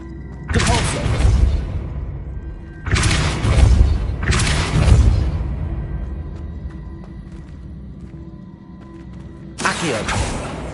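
Deep booming spell blasts from a Harry Potter video game, four heavy whooshing impacts with a rumbling low end, spaced a few seconds apart over a quiet hum.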